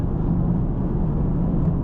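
Inside a 2017 BMW G12 750i V8 cruising at 80 mph on a Texas highway behind a truck, a steady low road rumble and muffled wind noise hold evenly throughout, with no talking.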